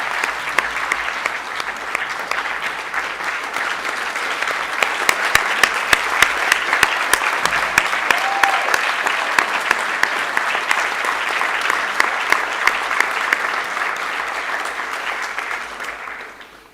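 Audience applause after Professor Abdulrazak Gurnah's public lecture at a conferral event: dense, sustained clapping from a large hall crowd that holds steady, then stops abruptly at the end.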